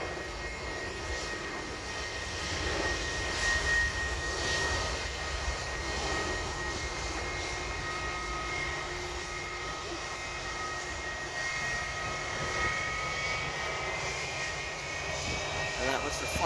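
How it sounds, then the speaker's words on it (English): A QantasLink Boeing 717 jet on its final ever takeoff from Sydney bound for Canberra, a continuous distant engine roar and whine heard steadily throughout with people talking over it. "And that was the final ever takeoff of the Qantas Link 717."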